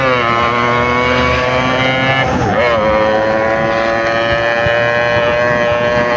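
A Yamaha RX-King motorcycle with loud exhaust drones steadily while riding a wheelie, a loud, constant engine note close up that dips briefly in pitch midway before holding steady again.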